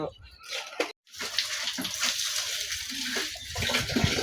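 Water splashes and sloshes as a boat made from palm leaves is rinsed, a near, uneven washing sound with a brief pause. Someone talks over it.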